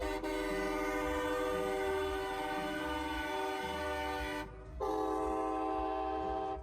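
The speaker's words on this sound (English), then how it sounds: "You got the bro-dozers with their stupid ass train horns." A loud, sustained multi-tone train horn fitted on a pickup truck blasting nearby, cutting out briefly before sounding again with a slightly different pitch.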